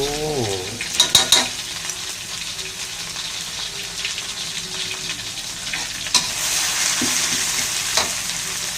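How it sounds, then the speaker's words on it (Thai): Catfish stir-fried in red curry paste over moderate heat fills the space with a steady close sizzle, while a spatula scrapes and taps the pan, including a quick run of knocks near the start. "เจ้าผัดพริกแกงนี่ก็ไม่ต้องใช้ไฟแรงมากกันนะครับ ไม่งั้นเดี๋ยวเขาจะไหม้"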